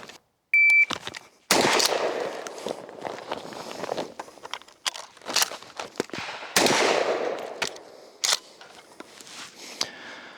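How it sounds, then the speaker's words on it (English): A Remington 870 shotgun fires two shots outdoors. Sharp, loud blasts stand out among scattered clatter and handling knocks. "Two shots."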